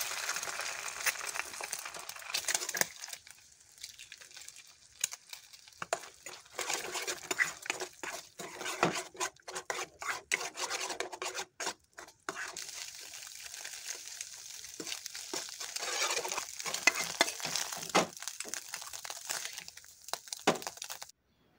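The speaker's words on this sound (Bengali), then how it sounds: "প্রথমে ডিম দুটো ভেজে নেব।" Two eggs fry in white oil in a pan, giving a soft, steady crackle and sizzle with scattered pops and no talking.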